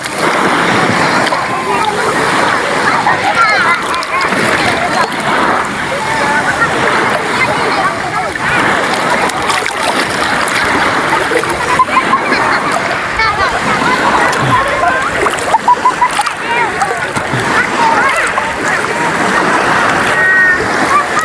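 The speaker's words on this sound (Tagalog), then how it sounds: "lalaki na ng alon." Big sea waves splash and churn around the listener in a loud, unbroken wash of surf and sloshing water, with voices speaking intermittently over the roar.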